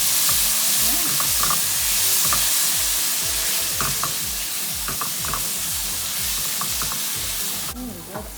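Tomato sizzles and fries in a pan with a steady crackling hiss, stirred with repeated scraping strokes, close and continuous.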